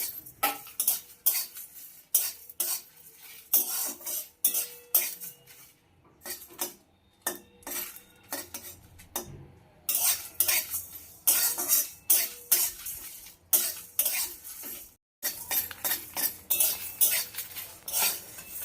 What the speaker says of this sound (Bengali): সমানে নেড়ে নেড়ে মশলাটাকে ভেজে নিতে হবে